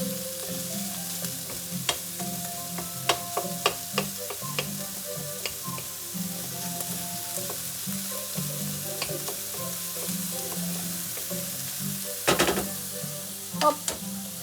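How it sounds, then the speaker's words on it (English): Bacon or filling for quiche Lorraine frying in a hot pan, a continuous crackling sizzle with scattered pops and the occasional clink of a utensil, steady and close, with no talking. "And you can hear it sizzling."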